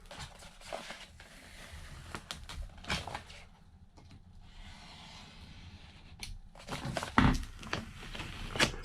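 A knife blade drawn along a ruler to cut a vinyl decal, making scratchy, uneven scraping and light tapping sounds up close, with quiet pauses between strokes and a sharper click near the end.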